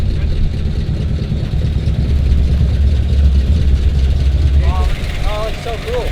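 Bagger motorcycle engine idling just after being cranked, a steady low rumble running close and loud, easing off near the end as people talk over it.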